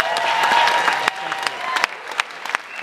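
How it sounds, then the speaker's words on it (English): Audience applause at a film premiere, a full burst of clapping that thins toward the end into a few scattered louder claps. "one last round of applause before we dig into this"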